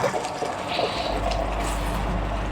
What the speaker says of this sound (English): and then I'm adding little water so that it cooks well.